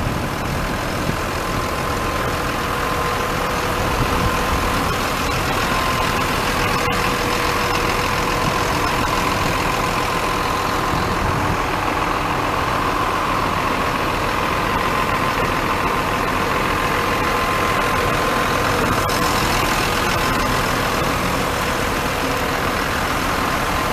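A 2013 Caterpillar 304E CR machine with a full cab, its diesel engine running at a steady, loud idle for a long stretch, close by and without talk.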